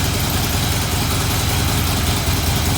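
A 2017 Harley Davidson Dyna Wide Glide motorcycle idling close by, a loud, steady, low rumbling engine throb with no voices.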